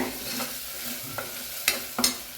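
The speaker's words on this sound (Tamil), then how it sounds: "இது இதில் போட்டு ஆயிலில் ஃப்ரை பண்ணுறேன். ஒரு 2 நிமிஷம் ஃப்ரை ஆகட்டும்." Green peas frying in oil for veg pulao, a soft steady sizzle with a few scraping stirs and light clinks of a spatula against the pan, heard close and alone.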